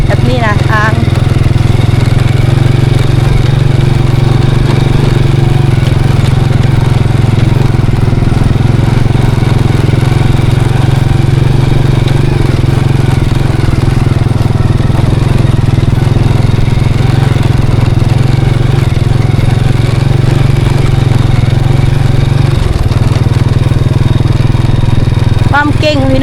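Motorcycle engine droning steadily while riding along a road, loud and close throughout, with someone talking over the continuous engine noise.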